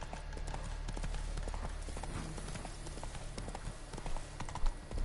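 Horse hooves in The Witcher 3 video game gallop in a fast, steady clip-clop rhythm, close and continuous under a noisy outdoor game ambience.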